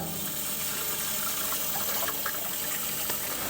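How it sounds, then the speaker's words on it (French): Water spraying to rinse the heat exchanger of a Buderus wall-mounted gas boiler, a steady close hissing gush of running water with faint splashes, no voices. "on va rincer l'échangeur à l'eau."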